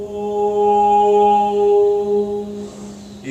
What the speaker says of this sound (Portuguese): o que a gente usa muito no yoga é o som do mantra Om